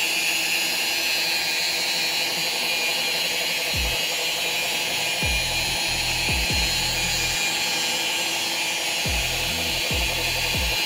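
A Rupes rotary polisher on speed setting one, about 450 RPM, working polish into the paint of a Honda Fit, giving a steady close whirring hum with occasional low bumps and shifts in pitch.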